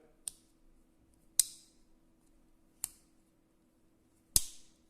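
Four sharp metallic clicks from Victorinox multitool scissors, spaced unevenly, crisp and close, with a faint steady hum underneath and no talking.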